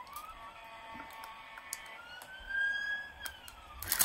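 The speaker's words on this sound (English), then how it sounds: "The siren going by" A siren wails faintly in the distance, its tone sliding up and down as it passes, over quiet background hum.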